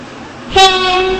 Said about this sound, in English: This train is now approaching Stepford Central.